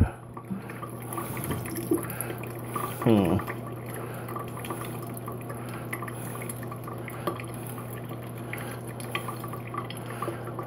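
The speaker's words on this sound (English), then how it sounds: "Came out of there pretty good a little bit, but now it's just trickling." Water trickles steadily from a pressurized tank line, which is only reaching about 30 psi after the air clears. The flow is a continuous low hiss with a brief gurgle early on, heard close and fairly quiet.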